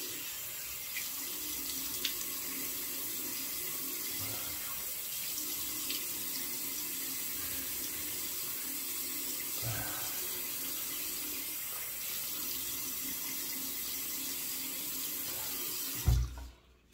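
A bathroom tap runs in a steady, even stream into a sink while the face is wetted for shaving, close and continuous until the flow is shut off abruptly at the end.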